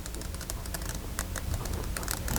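Scissors snipping carefully around a cut-out paper piece, a dense run of close, crisp little clicks and paper rustles in an uneven rhythm.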